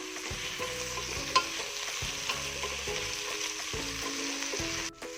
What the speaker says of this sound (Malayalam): ഇതെല്ലാം കൂടെ ചേർത്ത് നമുക്കൊന്ന് വഴറ്റിയെടുക്കാം.